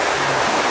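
Steady broadband roar of rushing water at Bavanat (Karaz) waterfall in Iran, a dense continuous wash heard close and loud with no voices.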